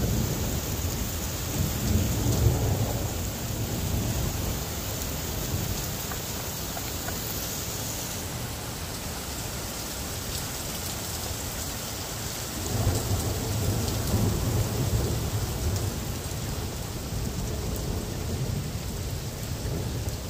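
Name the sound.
thunderstorm with heavy rain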